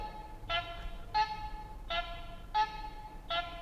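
The second turn-signal tone option on an electric motorcycle, a faint, evenly paced electronic chime that repeats five times with slightly longer gaps, over a soft background hum.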